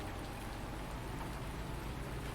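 Steady rain falls in Farming Simulator 19, a dense, even hiss of drops that stays constant throughout, with no voices over it.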